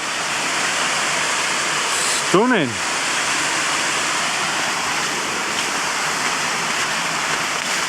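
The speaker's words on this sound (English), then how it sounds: "So there's the waterfall." A waterfall beside a hiking trail on the Brontë Way gives a steady, close rushing roar that continues throughout, with a brief spoken word over it partway through.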